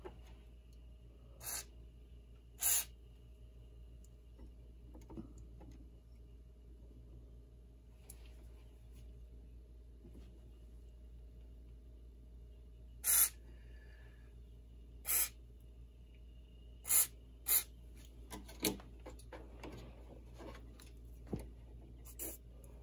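Short bursts of spray hit the mechanism of a vintage Admiral 6F11N AM radio and record player. Several quick, hissing squirts come in clusters over a quiet, faintly humming room.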